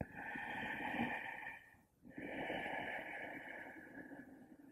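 Slow, steady ujjayi yoga breaths with a soft hissing, oceanlike rush in the throat, one long exhale-like stretch, a brief pause, then another.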